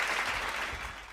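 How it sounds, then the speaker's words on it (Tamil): Audience applause during a church sermon fills the room with steady, dense clapping that fades slightly toward the end, with no voices over it. "கைத்தட்டுங்க"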